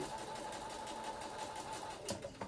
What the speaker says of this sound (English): you're going to stitch on that line between 1 and 3.